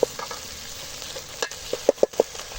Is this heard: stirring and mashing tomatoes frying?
yes